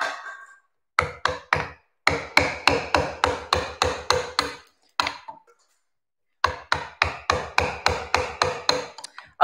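A mallet strikes a tool to split wood off a carving blank, sharp taps in fast repeated bursts with short pauses between runs, close and loud.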